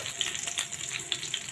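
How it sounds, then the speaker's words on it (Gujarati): Gram flour roasting in ghee in a pan for barfi churmu, giving a steady soft sizzle with light crackles, close and alone without talk. "2 ચમચી ઘીની મૂકીને 2 ચમચી ઝીણો લોટ નાખીને શેકી લેશું"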